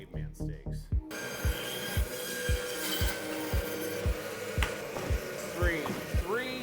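A meat saw cuts a beef hind shank into thick caveman steaks, with repeated short rasping passes through bone and flesh over a steady motor hum and some voices nearby.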